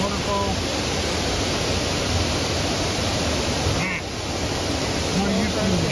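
Waterfall at Loretta Lynn's Ranch in Hurricane Mills, Tennessee, giving a steady, dense broadband rush that fills the whole span without letup, loud and close, with a faint brief rustle partway through.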